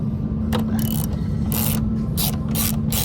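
Ratchet wrench loosening a strut tower nut on a Ford Fiesta ST, several quick bursts of rapid clicking close by over a steady low hum, without talk.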